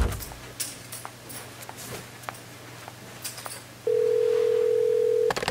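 A burner phone gives one steady electronic tone lasting about a second and a half, clear above a quiet room with soft scattered taps and a low hum.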